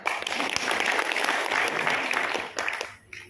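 Seminar audience in Bandung applauding, a dense, loud burst of many hands clapping that holds steady for about three seconds before cutting off abruptly.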